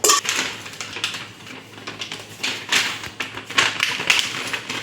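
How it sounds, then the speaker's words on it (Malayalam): A cake tin filled with batter is tapped against a surface in a quick series of clattering metallic knocks, close and fairly loud, spaced irregularly over a few seconds. "അപ്പോൾ അത് ഫുൾ ഫില്ലായി ഹോളൊന്നും ഇല്ലാതിരിക്കാൻ വേണ്ടി ഇങ്ങനെ ടാപ്പ് ചെയ്തിട്ട്"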